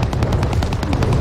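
Rapid automatic gunfire in a battle royale video game rattles out in a loud, evenly spaced burst of about a dozen shots, close and continuous across the whole moment.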